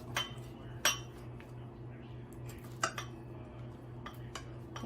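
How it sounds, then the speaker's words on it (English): A knife cuts through food on a plate, leaving a few light clinks and scrapes of metal on crockery over a steady low background hum. "I'm going to take a knife"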